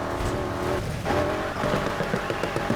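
A powerful sports car's engine revs and roars in the racing game Need For Speed Heat, with shifting tones, hints of tire squeal and a busy mix of game sound, fairly loud and continuous, no speech.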